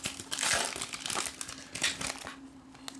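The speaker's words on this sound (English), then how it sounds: "We're just having fun ripping cards" Foil wrappers of 2021 Big League Baseball card packs being ripped open by hand, giving close, quick bursts of crinkling and tearing with short pauses between.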